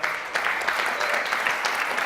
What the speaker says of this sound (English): So please clap for the following people.